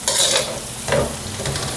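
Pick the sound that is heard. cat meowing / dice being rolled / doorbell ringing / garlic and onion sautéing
garlic and onion sautéing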